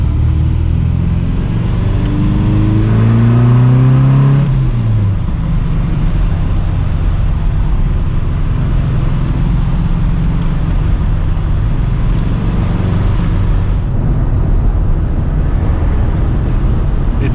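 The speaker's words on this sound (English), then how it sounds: "give you like a proper feel for how it drives and how it handles on these tight roads" An MG car's engine hums and rumbles steadily while driving on tight roads in Belgium, with a rising rev early on and constant road and wind noise throughout.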